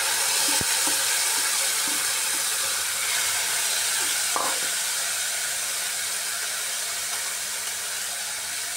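Moong dal and ginger sizzle in hot oil, a steady broadband hiss of frying that carries on throughout with a few small clicks and taps, no talking.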